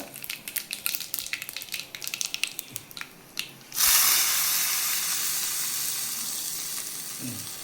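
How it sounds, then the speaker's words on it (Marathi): Cumin, mustard seeds and curry leaves hit hot oil: scattered seeds pop and crackle first, then the curry leaves set off a sudden loud, hissing sizzle that slowly fades. "तेल तापलं आहे. जिरं घालून घेऊया, मोहरी घालून घेऊया, कढीपत्ता"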